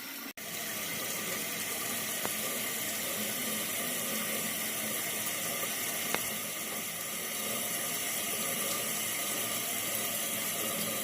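Water rushes continuously into a toilet tank with a steady hiss and faint whine, refilling without pause.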